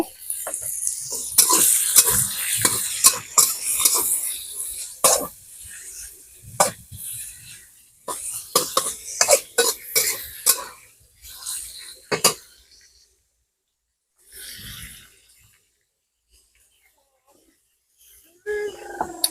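Pork hits a hot pan of browned garlic for a stir-fry with oyster sauce and spring onions, sizzling hard with scraping utensil strokes in bursts, then fading to near silence before a final clatter.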